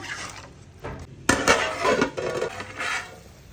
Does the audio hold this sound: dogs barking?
no